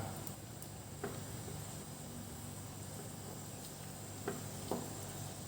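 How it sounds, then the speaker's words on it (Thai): Pickled mustard greens and chicken wings simmer in a salty Thai soup, giving a steady, soft bubbling hiss with faint clicks and pops, alone and fairly quiet. "ต้มเข้าไปเรื่อยๆ ก่อนนะครับ"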